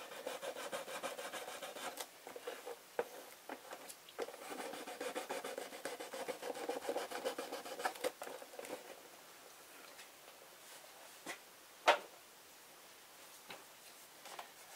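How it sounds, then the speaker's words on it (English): An emery board rubs over guitar wood, sanding off pencil writing, a soft, close, scratchy rasp in short strokes that thins out toward the end, with a few faint taps and no talk. "I'm just using the emery board to sand it off."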